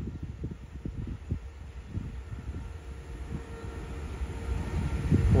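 A QSY 5205 diesel locomotive hauls the Thaksinarat special express train 32, a low, fairly faint rumbling with rhythmic clunks of rolling wheels that grows slightly louder toward the end.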